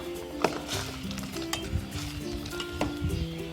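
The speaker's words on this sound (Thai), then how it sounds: "ตามด้วยน้ำปลานะคะ พริกป่นแล้วก็ข้าวคั่วค่ะ คนให้เข้ากันนะคะ" A utensil stirs Thai spicy soft-bone soup in a pot seasoned with fish sauce, chili flakes and toasted rice, giving close, steady scraping and clinking over a bubbling simmer, with no voices.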